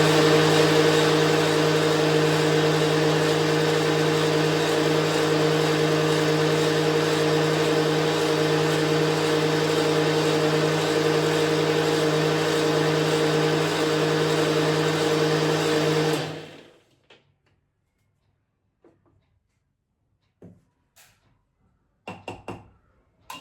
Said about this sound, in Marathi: आता हे छान मिक्सरमधून काढून घेते.